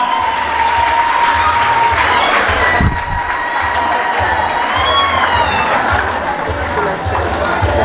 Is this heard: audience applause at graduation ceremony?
yes